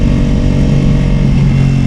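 A Ducati Pikes Peak motorcycle with a full Akrapovic exhaust and headers accelerating hard, a loud, close, steady engine roar filling the whole moment.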